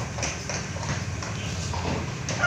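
Hooves of a miniature Shetland horse clip-clop in quick, fairly even steps, moderately close, under faint background noise.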